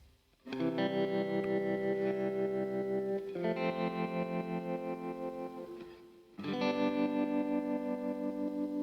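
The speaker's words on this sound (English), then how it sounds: "here's this optical tremolo, so we can kind of listen to before and after with this tremolo" Sustained electric guitar chords through an optical tremolo with a pulsing, throbbing effect, strummed a few times with pauses, each chord ringing out while its volume wobbles rhythmically.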